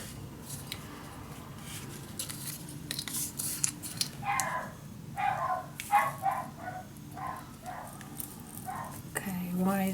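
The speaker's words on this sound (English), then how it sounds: "Okay, why is he barking?" A dog barks in short repeated bursts, moderately near, amid indoor craft-room noise, with a person talking over part of it.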